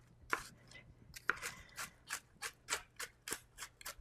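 A knife minces green chilies on a cutting board with close, crisp chops, a few scattered strokes at first and then a steady, even rhythm of about two strokes per second.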